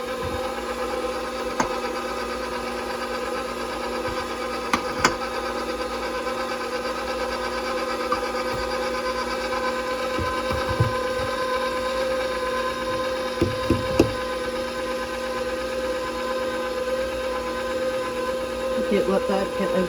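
An electric stand mixer kneading white bread dough at speed level 2, a steady motor hum with faint knocks and bumps throughout, a voice speaking intermittently over it.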